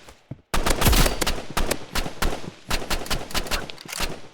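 Rapid gunfire in a video game, loud bursts of automatic shots in irregular clusters with short gaps, close and dominant.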